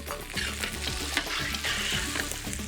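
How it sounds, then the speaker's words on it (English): Bomba rice sizzles and is stirred in a pan, a steady close frying hiss broken by scraping stirring strokes throughout, with no voices. "Cook the rice until the grains are shiny"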